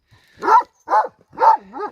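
A young Kangal dog gives three quick, close barks followed by a shorter whiny yip, loud and clear with no one speaking.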